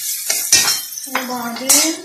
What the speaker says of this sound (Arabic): حطينا البصل وحطينا الفلفل، هنحط معلقه ثوم ونقلب